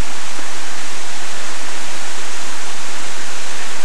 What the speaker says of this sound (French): on peut entendre la cascade